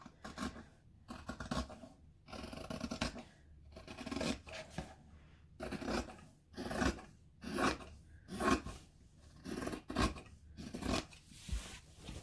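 Scissors snip through fabric in a steady series of crisp, rasping cuts, each stroke distinct and close, with short pauses between them and no talking.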